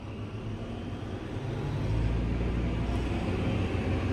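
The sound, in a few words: Fendt silage harvester engine revving under throttle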